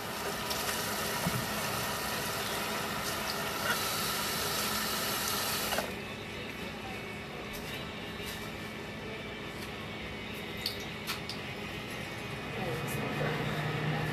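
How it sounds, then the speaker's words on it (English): Water runs from a kitchen tap as hands are rinsed at a sink during keto zucchini baking, a steady broadband rush for the first six seconds that then cuts off, leaving quieter kitchen background. "Let me wash my hands real quick"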